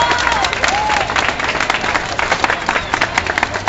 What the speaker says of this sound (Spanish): Gracias por esas palmas